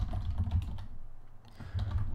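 Computer keyboard keys typed in short bursts during a Ruby programming session, close and steady, with a brief lull midway before the clicking resumes.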